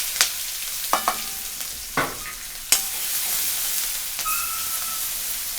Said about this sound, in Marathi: लसूण छान असा तेलामध्ये तळून घेतलाय.